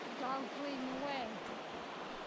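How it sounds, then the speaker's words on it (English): A creek near Chicken, Alaska runs with a soft, constant rushing wash heard from a little distance, while a faint voice rises briefly over the water. "The creek doesn't seem to get any shallower. It's still running pretty good."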